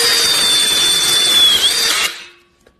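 An electric screwdriver fitted with a magnetic-ring bit drives a screw with a loud, steady motor whir close by. It holds for about two seconds, then stops abruptly, leaving a brief faint clatter.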